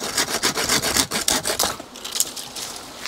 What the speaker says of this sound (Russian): Если пила острая, можно как по маслу фигарить.